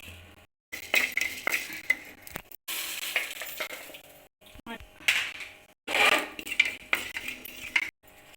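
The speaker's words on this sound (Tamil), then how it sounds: "மல்லி போட்டு வறுத்துக்கலாம்." Coriander seeds dry roasting in a pan, heard as scraping, rattling stirs in uneven bursts with short pauses, close and moderately loud.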